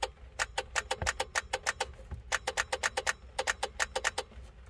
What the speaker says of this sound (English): It sounds like the relay is working